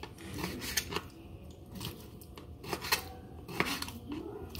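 A knife cuts an ingredient for Vietnamese pâté with short, irregular rasping strokes close at hand, several in a row with brief pauses between.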